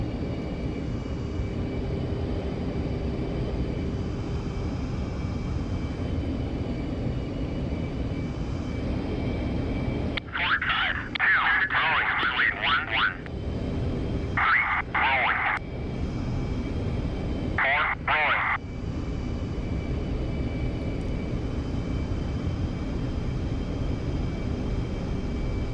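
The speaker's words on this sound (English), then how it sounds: "Air Force One spooled up. He's spooled up. He's spooled. He's good. Alright, here we go, guys. She's starting to taxi." Air Force One jet in the DCS flight simulator, engines spooled up as it begins to taxi: a steady, loud turbine roar with a high whine held throughout, while a few short bursts of voices cut in midway.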